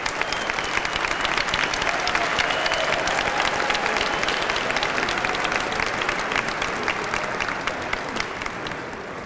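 An audience in a university assembly hall applauds faculty and staff with dense, sustained clapping that holds steady and then eases slightly toward the end.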